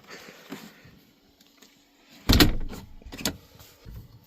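A lightweight door on a teardrop camping trailer slams shut with a sharp, close bang at about 2.3 seconds and a second thud shortly after, set against quiet outdoor background with no talking.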